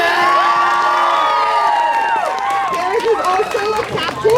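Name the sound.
audience cheering and applauding at swim senior night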